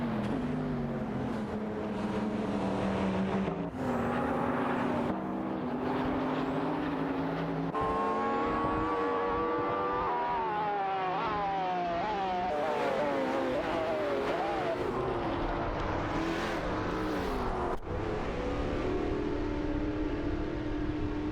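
Race cars including a Porsche 911 (991) GT2 RS roar continuously in a racing game, engines revving and shifting pitch up and down as the pack races, loud throughout with no talk.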